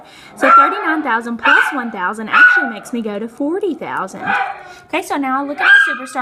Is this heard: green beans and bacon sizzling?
no